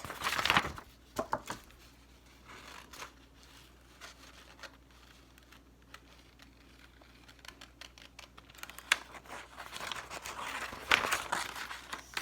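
Scissors cut out homemade paper stickers close up, with irregular snips and paper crinkling, denser near the start and end with quieter gaps between.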